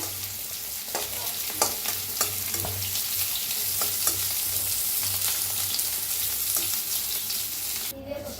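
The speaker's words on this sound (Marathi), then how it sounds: "तर हे बी आपलं छान भाजलेलं आहे, कलर पण चेंज झालेला आहे।" Seeds dry-roasting in a pan for an aloo gobi dish give a steady, close crackling sizzle, broken by occasional sharp ticks and scrapes as they are stirred.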